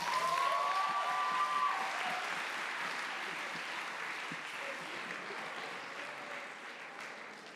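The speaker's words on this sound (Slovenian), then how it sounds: "En aplavz, en aplavz." Sustained applause from a concert audience, steady clapping throughout with a brief whistle-like tone near the start, gradually easing slightly in loudness.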